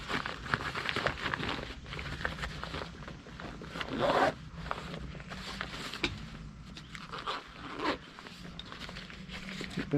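Zippers on a Durston Kakwa 40 backpack being pulled open and shut, with repeated close, crisp zipping strokes and small rustles of pack fabric throughout, no voices heard.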